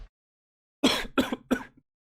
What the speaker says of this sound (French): Pendant que je vous tousse